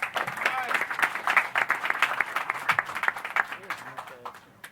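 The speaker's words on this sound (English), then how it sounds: "big round of applause to Mike Stafford." Press conference audience for a boxing event applauds a speaker taking the podium, steady crowd clapping with a few voices calling out, thinning toward the end.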